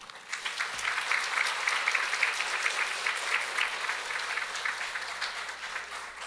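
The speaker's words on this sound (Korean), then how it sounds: "우리 나오실 때 큰 박수로 환영해 주시기 바랍니다." A church congregation at a worship service claps warmly to welcome the worship leader to the stage, with steady, dense applause filling the room at an even level throughout.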